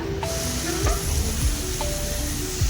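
Ginger and garlic sautéing in a pan with a continuous close sizzle, broken by occasional scraping strokes of a spoon against the pan.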